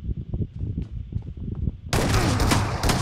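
Gunfire rings out in PUBG Mobile: a quiet spell of scattered thumps and clicks, then a sudden loud stretch of dense, close shooting with crackling reports.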